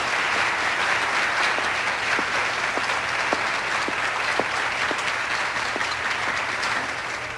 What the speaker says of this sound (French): Et on applaudit toutes nos belles et jeunes concurrentes.